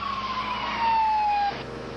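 A wailing emergency siren, likely an ambulance on a call, sweeping downward in pitch over a steady engine rumble, cutting off partway through and leaving a quieter background.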